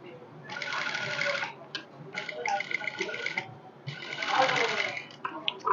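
A sewing machine stitches a blouse sleeve in quick rattling bursts, running in three or four stretches separated by short pauses, close and moderately loud.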